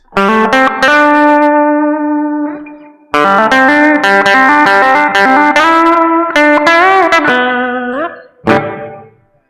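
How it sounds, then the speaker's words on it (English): A bright, twangy electric guitar on its bridge pickup plays sustained chords and single notes, loud and close, with a couple of short pauses between phrases. "if you put it onto the bridge pickup, it sounds really bright"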